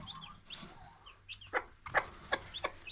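Newly hatched chicks give soft, high peeps, mixed with several louder clucking bursts from chickens nearby. The bursts come in an uneven series toward the end, and no one speaks.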